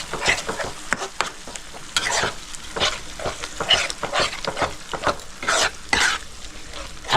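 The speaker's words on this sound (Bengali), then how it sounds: "দইটা দিয়ে ভালো করে মিক্স করে নিচ্ছি।" Yogurt being stirred into a pangas fish tel jhal curry in a pan over a low gas flame: repeated scraping spoon strokes over a continuous oily sizzle, close and fairly loud, with no talking.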